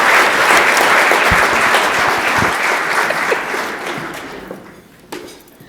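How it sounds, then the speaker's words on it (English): An audience at an Economic Club of Canada event applauds in a loud, dense wave of clapping that gradually thins and fades toward the end, with a faint knock near the close. "Please join me in giving her a round of applause"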